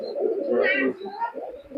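Pakistani high-flying pigeons give brief soft coos close by, a short murmuring burst that fades and returns once, with a faint voice in the background.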